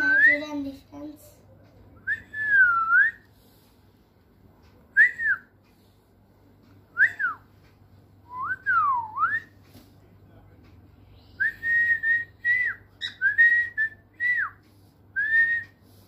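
Pet cockatiels indoors give a series of clear, looping whistled calls, some rising and falling, in separate bursts with quiet gaps, fairly close over a low steady hum.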